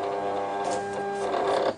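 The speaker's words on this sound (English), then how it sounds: "and that just takes the transfer paper into its start position" A Silhouette Cameo cutter hums steadily as it feeds a sheet of transfer paper into its start position, a quiet, even mechanical whir with a slight rise near the end.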